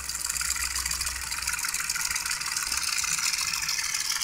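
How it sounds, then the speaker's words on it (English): A small peristaltic pump pushing ferric chloride through rubber hose, giving a steady continuous whirring drone with a faint pulsing texture, close and constant throughout, with no talking. "force it to move a little bit by using this peristaltic pump"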